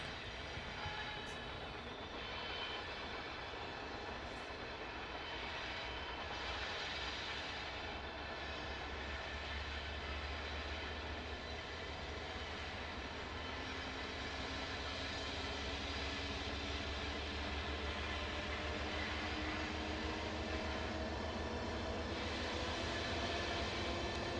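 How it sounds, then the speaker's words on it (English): A massive freight train with distributed power units rumbles through the mountain setting at Gallitzin, Pennsylvania, a continuous low heavy roar of engines and rolling cars, steady and loud, with no talking. "you will very rapidly get the sense this is a massive train"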